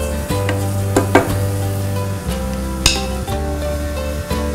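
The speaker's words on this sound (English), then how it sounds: "just going to add some crushed garlic here. Just give it a quick stir" Crushed garlic sizzles in a hot pan for marinara sauce while a utensil stirs and scrapes, with a few sharp clinks against the pan and a steady hum underneath.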